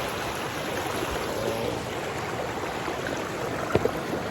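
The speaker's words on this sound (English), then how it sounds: "I got flowing water, I got flowing running water." Water flows and rushes steadily in a continuous broadband wash, close by, with a couple of small splashes near the end and no talking.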